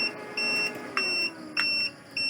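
A solar inverter's low-voltage alarm, set off with the battery bank at 23.5 volts, sounds a steady high electronic beep that repeats about every half second, even and insistent, with a faint low hum underneath.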